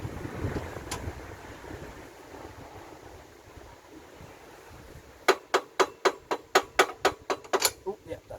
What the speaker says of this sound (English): I just kept hitting it until the bolt actually slides through.